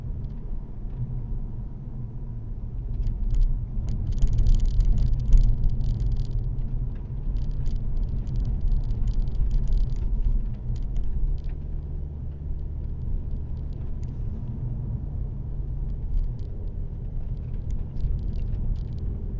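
A 2025 Audi S5 Sportback cruising a road through Moreland Hills after a snowstorm, giving a steady low engine and road rumble with tyre hiss that swells and eases gently throughout.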